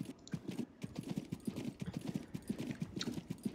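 Horse hooves clip-clop steadily through a town in the Western game Six Guns, a quick even gallop rhythm of close, moderately loud beats with no talk over them.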